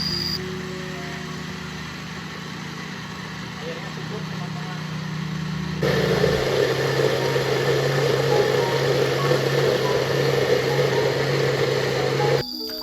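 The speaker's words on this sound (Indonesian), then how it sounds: "langsung nyalakan mesin blendernya teman-teman" An electric blender grinds carp fishing bait dough, a steady motor drone that jumps midway to a louder, brighter whir and stops suddenly near the end.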